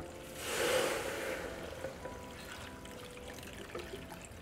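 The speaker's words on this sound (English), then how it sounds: "Fill it up with water." Water pours into a small pot in a short burst, then trickles faintly, with a quiet background hum and no one speaking.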